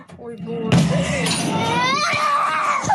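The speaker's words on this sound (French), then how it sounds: "Les cris d'un enfant et la terreur d'une famille." Child screaming in terror as a missile strikes right beside a family's apartment building in Ukraine, a sharp crash at the start followed by sustained, wavering high-pitched screams, loud and close, with other voices mixed in.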